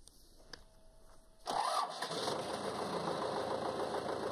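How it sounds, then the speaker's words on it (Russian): An MTZ-80 tractor engine cranks and fires at about 1.5 seconds, then settles into a loud, steady running rumble after a quiet lead-in. "Он заводит трактор МТЗ-80, слушает, как работает двигатель"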